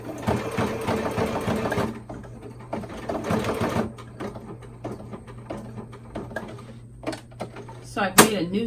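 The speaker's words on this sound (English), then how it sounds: "I'm going to put it on a zigzag stitch" A sewing machine runs in short bursts of rapid zigzag stitching, starting and stopping, with brief clicks and handling noises between runs.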